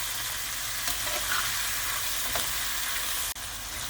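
Peppers frying in a pan with green beans, a dense continuous sizzle with a few faint stirring clicks, close and steady.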